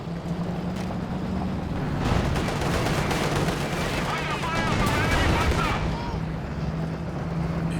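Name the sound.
machine gun fire in Company of Heroes 2 video game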